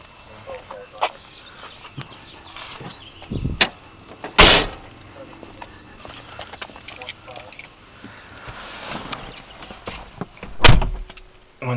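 Doors of a VW Passat B5.5 being shut, a few solid thumps spaced out over several seconds with smaller clicks and rattles between, close by.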